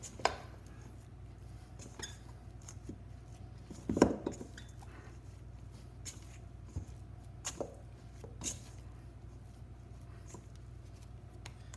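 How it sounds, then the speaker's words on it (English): Sticky no-knead Italian bread dough being worked with rosemary, giving soft scrapes and light clinks from a bowl, one sharper knock midway, all fairly quiet with no talking. "we'll add that right now, and I'll still be able to mix this right into the dough"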